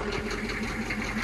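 A GMC Vandura 3500 with a 6.2 liter diesel engine runs in a fast, even mechanical clatter, close and steady throughout with no talking.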